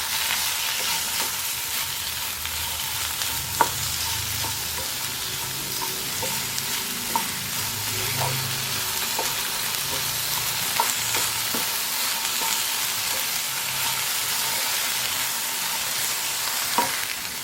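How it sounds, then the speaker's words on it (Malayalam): Food frying and sizzling in a pan while being stirred and mixed, with a steady broadband sizzle and scattered scraping clicks of the utensil throughout, fairly loud and close, no talking. "നല്ലതുപോലെ ഒന്ന് മിക്സാക്കി കൊടുക്കാം."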